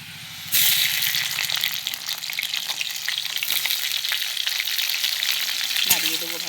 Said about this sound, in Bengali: এবার এর মধ্যে কুচিয়ে রাখা টমেটোগুলো দিয়ে দেবো।